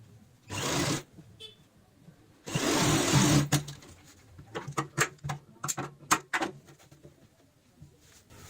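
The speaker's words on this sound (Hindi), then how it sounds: "अब हम यहाँ पे सीधी साइड में ऐसे फोल्ड करते हुए ऊपर से सिलाई लगाएंगे।" Sewing machine stitching along the folded side of a fabric handbag, with two sustained whirring runs followed by a series of short, quick bursts and clicks.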